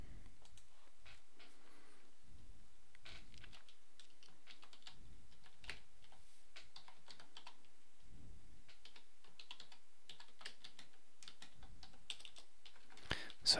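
Quiet, steady typing of code on a computer keyboard, with irregular clusters of soft key clicks and brief pauses running throughout, close and fairly faint.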